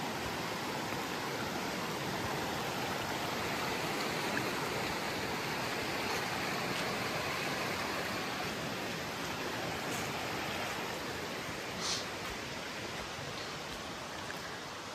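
Water from a creek flows in a continuous broadband rush along its channel, steady and fairly close, with no voices.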